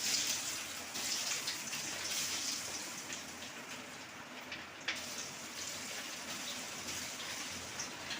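Batter-coated cauliflower 65 pieces, mixed with spice powder and egg, frying in hot oil with a steady, even sizzle and bubbling hiss that carries on throughout.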